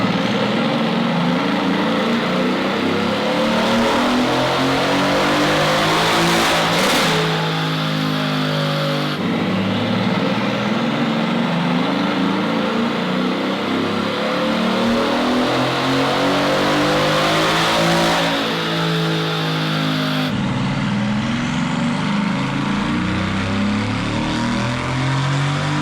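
A Mercedes-AMG GT fitted with new turbos and downpipes revs hard on a chassis dyno, a loud, continuous engine roar that climbs through the gears in repeated rising sweeps, close up with no talking.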